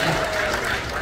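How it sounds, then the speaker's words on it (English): Brief burst of audience applause at a ventriloquist show aboard the cruise ship Navigator of the Seas, a dense patter of many hands clapping at once. "we should give the kids a big round of applause for having to do school from home for a year"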